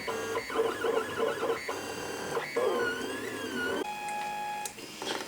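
A WEEDO TINA2 mini 3D printer printing a Benchy hums and whirs with stepper-motor tones that shift pitch in steady, repeating bursts, close and continuous with no voices.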